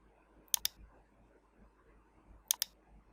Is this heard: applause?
no